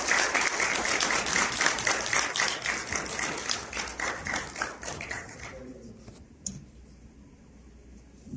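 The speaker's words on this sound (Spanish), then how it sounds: "démosle un aplauso a ellos," Audience applause at a book presentation in a cultural forum, dense clapping for about five seconds that thins to a few scattered claps and fades out.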